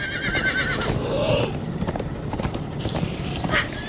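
Horses in the Minecraft Story Mode video game galloping with rapid clip-clop hoofbeats and letting out a loud whinny, close and busy throughout.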